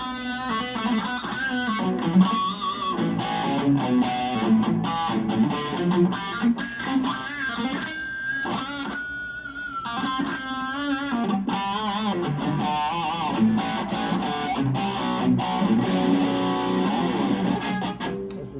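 Heavily distorted Epiphone Les Paul Standard electric guitar strumming a run of chunky power chords, loud and sustained with brief pauses between changes, no talking.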